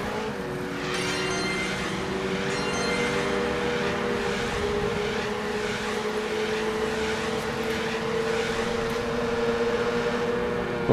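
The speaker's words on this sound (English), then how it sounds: "that train is in the worst place possible." A train in the game Watch Dogs rumbles past in a steady, loud, continuous roar with droning tonal hum, filling the whole stretch without pause or talking.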